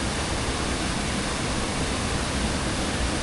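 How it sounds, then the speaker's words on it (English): A canyon waterfall in Moalboal rushes in a steady, dense roar that fills the whole clip, close and loud with no voices over it. "Waterfall be waterfalling, let me tell ya."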